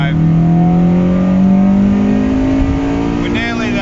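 A Honda Civic with a freshly fitted exhaust manifold gasket cruises along the road on a long drive, its engine holding a steady humming drone heard from inside the cabin.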